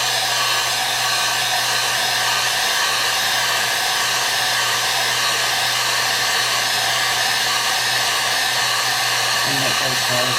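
A heat gun blows hot air onto a three-section tumbler, a loud steady whooshing roar with a constant hum that runs unbroken throughout, close to the mic, with no talking.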